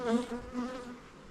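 Honeybees crowding a full spring hive produce a close, droning buzz with a pulsing, wavering tone, swelling at the start and easing slightly, with no talk over it.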